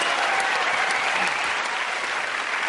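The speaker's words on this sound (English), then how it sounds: "Give a round of applause to everyone there." A studio audience at a comedy panel show bursts into applause, a thick, steady wash of many hands clapping at close range that lasts the whole moment without talk.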